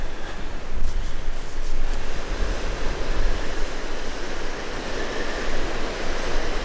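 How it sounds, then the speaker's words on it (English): Rough lake waves churn and wash continuously in strong wind during a November snowstorm hike in northern Canada, a steady broadband roar with gusty wind buffeting the microphone and no voices. "Every time I come down here, the lake's always rough, like an ocean."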